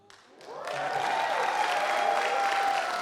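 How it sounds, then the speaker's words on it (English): Applause at an education foundation scholarship awards ceremony, starting quiet, swelling in about the first second into a full, steady round of clapping from the crowd, with a brief voice heard at the start. "This is going to get the biggest round of applause"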